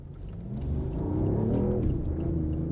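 A BMW i8, recently repaired after overheating, pulls away and accelerates, its low motor drone and rumble rising and swelling steadily with a faint whir on top.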